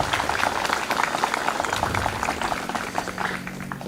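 An audience claps together at a formal community gathering in Banjar district, Seririt, with dense, fast, even applause that stays loud the whole time.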